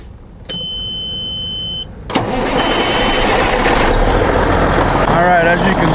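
A Cummins N14 diesel truck engine cranks with a click and a whir, then catches and settles into a loud, steady idle close by. A voice can be heard speaking before it starts.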